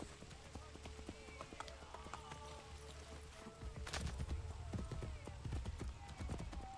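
Horse hooves clip-clopping at a run in the video game Assassin's Creed Brotherhood, steady hoofbeats throughout with a heavier stretch in the second half, mixed with game ambience and a voice talking.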